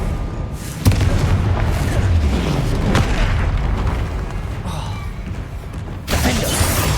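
Explosive blasts of the Confringo spell in the video game Hogwarts Legacy, deep booming bursts over a rumbling game soundscape, with one sharp hit near the start and another toward the end.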